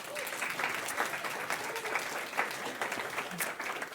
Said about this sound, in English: Round of applause to Maia-Liisa.